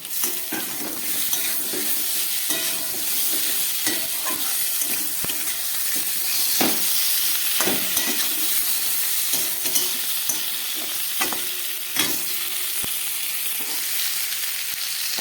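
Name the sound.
frying spices with tomato pieces for fish curry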